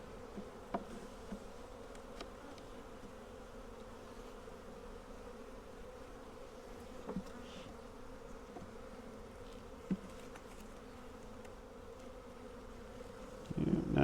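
Package honey bees in a week-five hive inspection, a steady low buzz holding throughout with a few brief knocks and a louder rustle at the very end.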